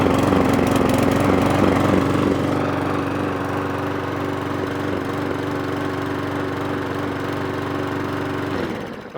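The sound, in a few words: lawnmower engine running after carburetor clean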